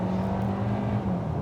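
A 2023 Hyundai Kona in sport mode launches hard from first gear with launch control, its engine drone rising steadily and continuously for a brief moment, heard from inside the cabin without talk.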